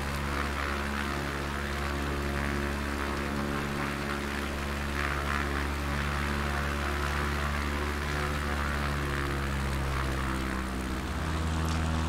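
A propeller aircraft flies over Guyana in Flight Simulator, its engine a steady, loud, close drone with a layered tonal hum that holds evenly throughout and shifts pitch slightly near the end.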